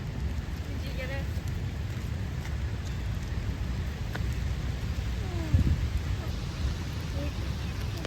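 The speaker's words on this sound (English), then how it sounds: "It is a rainy day in Manhattan" Rain falls steadily in Central Park, Manhattan, a constant hiss with faint city background and a brief louder knock partway through.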